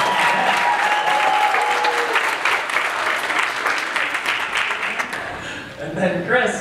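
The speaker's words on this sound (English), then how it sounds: "We're going to applause. Let's do it for him." Church congregation breaks into sustained applause, a broad, loud clapping wash that holds steady, then thins and fades near the end as voices emerge.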